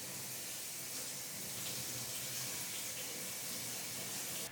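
Tap water runs steadily into a sink while broccoli is washed under it, a soft continuous hiss and splash that stays even throughout, with no voices.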